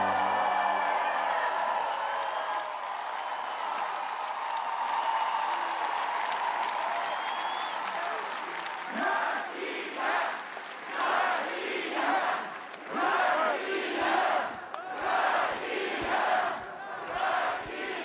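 A large audience at a concert in Moscow's Red Square applauds and cheers in sustained waves. Crowd shouts rise over the clapping, and amplified voices come through near the end.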